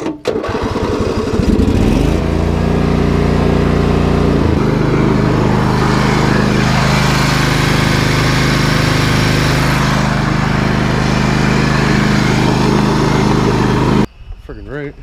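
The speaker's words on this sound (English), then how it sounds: "The mower works awesome." A lawn mower engine sputters, then settles into a loud, steady drone close by that runs for most of the stretch before cutting off abruptly near the end.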